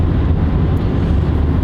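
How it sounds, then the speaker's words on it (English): A BMW 328i F30 with an M Performance exhaust in sport mode gives a loud, steady low rumble with dense bass and no breaks, close to the listener and heard alone. "hear the exhaust a lot better in sport mode"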